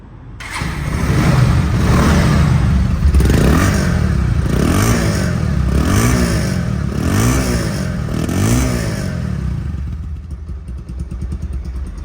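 A 2023 Bajaj Pulsar DD ABS motorcycle, second-hand with about 2,500 km on it, idles and revs repeatedly in steady rising and falling surges. The engine is loud and close, with no voices.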